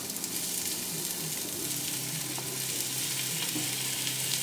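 Garlic and onion frying in olive oil in a pan, a steady, even sizzle with faint crackles, held close and continuous throughout without any talk.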